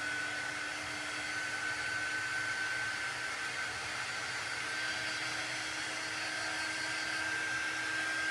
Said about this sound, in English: Speed up the drying with my little air dryer.